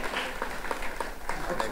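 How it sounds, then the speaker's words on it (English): Applause from an awards-ceremony audience, a dense, continuous clatter of many clapping hands with a few sharper individual claps standing out, steady and fairly close for a brief stretch. "please, a big round of applause for this very, very famous song"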